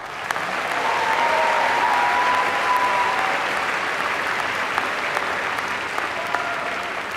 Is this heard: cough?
no